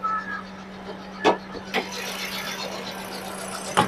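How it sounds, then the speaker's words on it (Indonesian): A 2017 Daihatsu Sigra manual car engine idles steadily and smoothly nearby, a low continuous hum broken by a few sharp clicks or knocks. "Mesinnya suaranya masih normal, masih stabil, masih oke"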